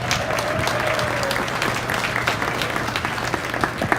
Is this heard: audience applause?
yes